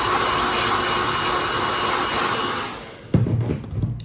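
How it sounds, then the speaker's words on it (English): Hair dryer blows steadily for about three seconds while drying a Puma straight razor on a honing stone, then switches off, leaving a few clunks and handling sounds. "Just going to give that a bit of blow dry."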